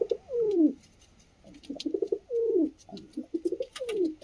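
Pet pigeons cooing close by, several soft rolling coos repeating in quick bursts with short pauses between, with no voices.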